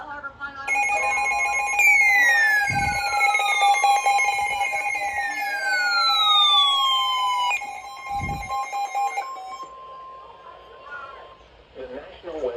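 A NOAA weather radio EAS alert from station WXK sounds loudly and near, steady high attention tones with falling sweeps running for several seconds, broken by a couple of low thumps, before fading as talk starts.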